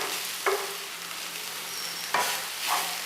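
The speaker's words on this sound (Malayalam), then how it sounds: "നന്നായിട്ട് തന്നെ ഇളക്കിയെടുക്കാം." A spoon stirs mashed potato into vegetable cutlet mixture in a pan: a soft, steady sizzle with a few louder scraping strokes against the pan. No voices.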